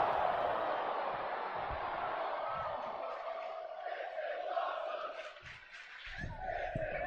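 Virtual arena crowd in the WWE 2K24 wrestling game during a flaming-table superplex spot, a steady roar of massed voices chanting and cheering throughout, dipping briefly near the end before swelling again.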